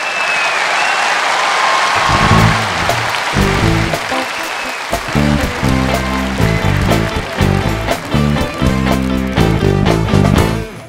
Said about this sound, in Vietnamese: Xin quý vị hãy dành một tràng pháo tay thật lớn cho anh Lê Huỳnh à.